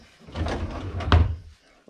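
Built-in nightstand drawers in a small park-model tiny house slide open and shut, giving a soft wooden rumble that ends in a firm thud, close by and with no talking.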